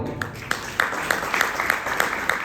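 Scattered, rhythmic clapping from an audience at a religious winter discourse gathering in Gondia, Maharashtra, a few hands beating in an even pulse against a steady high tone and room noise.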